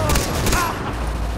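Gunfire in Far Cry 3, a brief burst of loud, close shots with combat noise.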